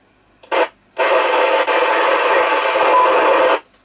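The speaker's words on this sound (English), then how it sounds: "I know it's you, I can hear the bleep, but that's all I'm getting, over." Transmission from a TTI TCB-H100 handheld CB radio, received as a brief noisy burst followed after a short gap by a longer, steady band of hiss and tone lasting nearly three seconds, fairly loud with no voice audible.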